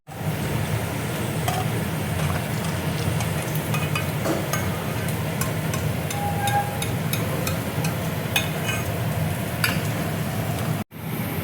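Bread snack rolls fry in hot oil with a continuous close sizzle, punctuated by occasional light clinks and scrapes as the rolls are lifted out.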